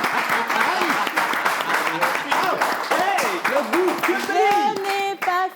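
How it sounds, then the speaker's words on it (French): Audience applause at a live event, steady clapping sustained throughout with voices and cheering mixed in over it. "merci d'applaudir tous ceux qui sont"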